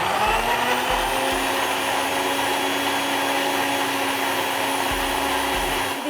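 A mixer grinder blends a milk smoothie with a loud, continuous motor whine that holds steady for several seconds, with a few low thumps near the start, heard close with no voices.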